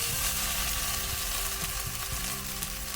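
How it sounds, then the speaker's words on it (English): Goetta sizzles and crackles steadily as it pan fries in a hot pan, a dense hiss with occasional soft pops, close and continuous. "When you're pan frying it"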